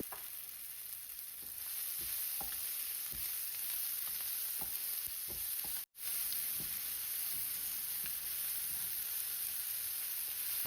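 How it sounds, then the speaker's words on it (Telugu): Onions and tomatoes fry steadily in a pan for Rayalaseema-style uggani, giving a continuous close sizzle with faint stirring scrapes and a brief dropout partway through, and no voices. "ఉల్లిపాయలు, టమాటాలు సాఫ్ట్ అయ్యే వరకు ఫ్రై చేసుకోవాలి"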